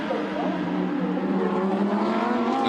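Lamborghini Super Trofeo race cars at Yeongam, a dense sustained engine roar as second and third place flash past, loud and continuous under a commentator's voice.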